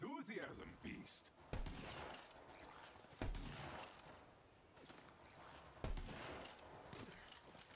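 Gunfire in the video game Borderlands 3, sharp shots cracking out at intervals of a few seconds over a dense, noisy game soundscape, with brief talk early on.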